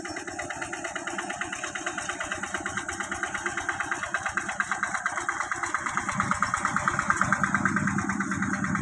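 A small engine-driven tiller works a flooded rice paddy, a steady rapid putter throughout that grows slightly louder toward the end, heard alone without talk.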